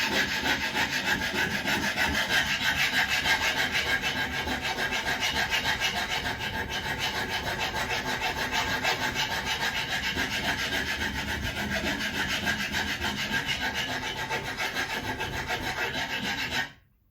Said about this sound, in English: I suppose I better file it just for a minute